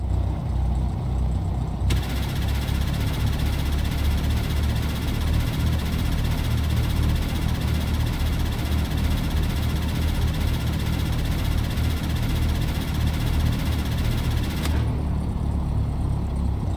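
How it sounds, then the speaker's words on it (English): A simulated light aircraft engine with a G1000 cockpit, in X-Plane or Microsoft Flight Simulator, runs steadily at idle, a loud continuous drone with a constant low rumble, and a broad higher hiss joins for most of the stretch before dropping away near the end. "the engine will also sound very different when the starter is in the start position"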